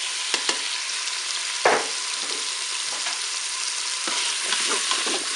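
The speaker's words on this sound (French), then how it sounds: "Le beurre est fondu, je vais mettre mes morceaux de bœuf" Beef pieces browning in melted butter in a Cookeo multicooker, a steady close sizzle with a few sharp crackles and soft stirring scrapes through the stretch, no voices.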